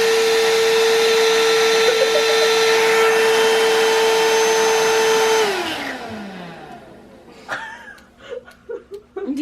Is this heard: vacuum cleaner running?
yes